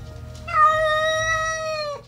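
A single cat lets out one long, drawn-out meow, close and clear, over faint low background noise.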